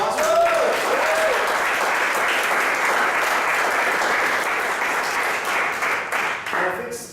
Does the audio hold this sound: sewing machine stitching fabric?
no